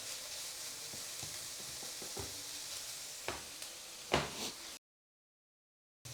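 Carrot and onion fry in a pan with a steady broadband sizzle, broken by a few scraping stirs of a utensil, one louder clatter near the end before the sound cuts out abruptly.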